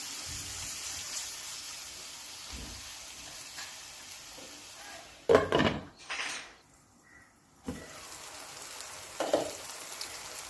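Chopped tomatoes for a tomato prawn curry sizzle softly and steadily in a pan, with a few sharp metallic clanks from the lid and utensils around the middle and near the end; no talking.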